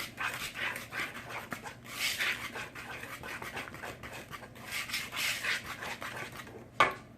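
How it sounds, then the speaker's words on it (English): Wire whisk scraping around a bowl while mixing brownie batter, a continuous close rasping, rubbing sound with uneven strokes and a sharper clink near the end. "I know the whisk sounds kind of yucky as it scrapes."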